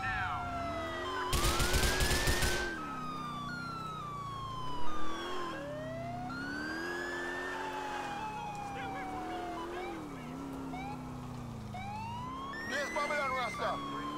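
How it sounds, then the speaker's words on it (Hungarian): Wailing police siren from the video game GTA IV, rising and falling in steady sweeps for the whole stretch, loud and close, with a brief burst of noisy impact near the start and another toward the end. "Jó, ez a sziréna."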